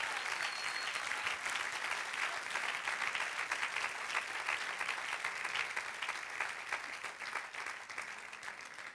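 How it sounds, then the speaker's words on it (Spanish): Congregation applauding in church during a sermon, sustained, even clapping from many hands at moderate distance, carrying on steadily without speech. "Dale un aplauso al Señor."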